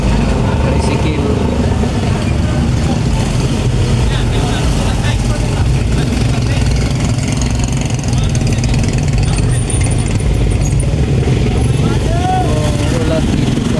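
Busy Mindanao market traffic with tricycles and other vehicles: a dense, steady drone of small engines idling and moving nearby, loud and constant, with people talking throughout.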